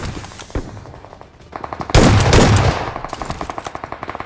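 Gunfire from a mobile battle royale game during a squad fight: a few separate shots, a loud blast burst, then rapid, evenly spaced automatic fire, loud and close with no talking.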